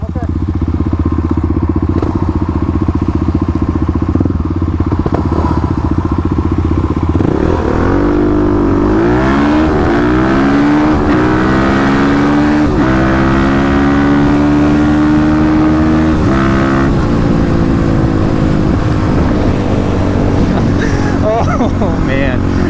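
A Kawasaki KLX351 and a Yamaha WR250R launch side by side in a drag race, engines droning loud and steady, then revving up through rising gear pulls with strong wind buffeting the close recording.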